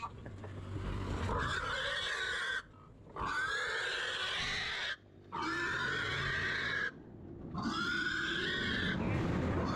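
Pigs at a livestock auction squeal and oink loudly and continuously in three long bursts separated by brief pauses, close and dominant, with a steady din of the pen beneath.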